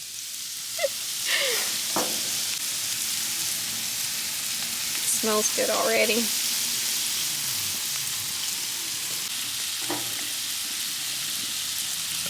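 Blackened chicken sizzles steadily on a Blackstone griddle outdoors on a back porch in light rain, a constant close crackling hiss while a person briefly speaks.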